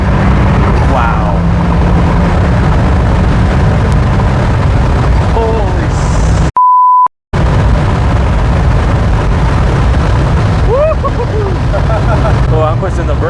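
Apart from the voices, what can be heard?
Flyin' Miata turbo NC Miata accelerating hard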